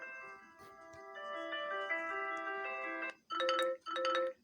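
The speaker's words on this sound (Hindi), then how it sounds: "आपका अलार्म," Alarm tone on a Redmi Note 8 phone: a soft sustained chiming melody that ends in two louder bursts of bright ringing, playing alone at moderate volume.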